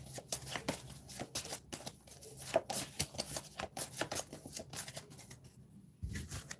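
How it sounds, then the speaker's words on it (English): A deck of playing cards is riffled and shuffled by hand during a tabletop card game, a steady run of quick papery flutters and snaps, close and soft, with no talking. "Shuffle it into the bottom half."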